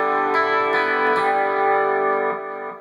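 An electric guitar with plenty of gain runs through an EVH 5150 III amp model on a Line 6 POD HD 500, picked one-handed at full volume. Sustained, slightly distorted notes ring with faint pick ticks and then fade.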